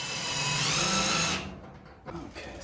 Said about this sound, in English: Double check your position before drilling any holes.